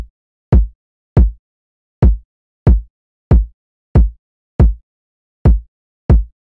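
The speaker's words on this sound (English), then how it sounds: "using the Kick 2, here's the pattern that it plays." Trap kick drum from the Kick 2 sample in FL Studio plays a sparse, uneven pattern of nine booming, decaying hits, loud and isolated against silence.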